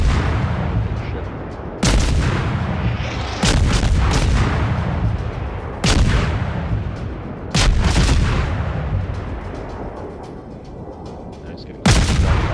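Heavy gunfire and artillery blasts in the World War I shooter Verdun, loud booming shots arriving every couple of seconds, each with a long rumbling decay.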